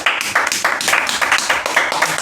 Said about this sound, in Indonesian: Keren banget, tepuk tangan dulu.